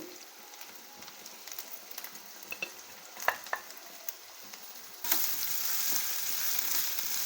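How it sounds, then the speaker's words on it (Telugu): Thinly sliced onions frying in a pan for egg masala curry gravy, a soft continuous sizzle with scattered spatula taps, swelling abruptly into a louder, denser crackle near the end. "ఈ ఉల్లిపాయలు బాగా వేపుకోవాలి గ్రేవీ కోసము ఎర్రగా వేపుకోవాలి"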